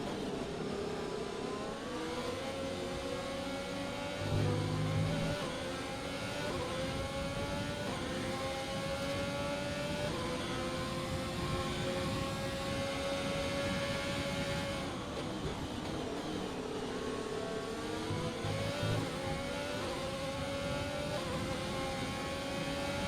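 Open-wheel F1 car engine howling at full throttle down the start-finish straight at Interlagos in the F1 2020 racing game, with steady high-pitched revs rising through gears, a brief dip and shift, and rival cars roaring close alongside.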